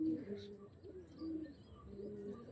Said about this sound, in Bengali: একদম টুর্নামেন্ট কোয়ালিটির পায়রা, বেস্ট কোয়ালিটি বন্ধুরা।